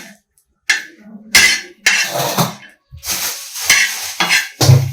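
Something fries in a pan at home, heard as bursts of sizzling mixed with clattering utensil and pan scrapes, close and loud with short silent gaps between.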